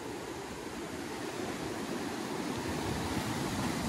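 High sea waves surging up a closed beach at Mandarmani give a steady, broad roar of surf that swells slightly louder partway through, heard from a distance with no talk.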